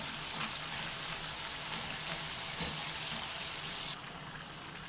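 Thinly sliced tapioca fries in hot oil for homemade chips, giving a steady, even sizzle with a fine crackling hiss that holds at moderate loudness throughout, with no talking.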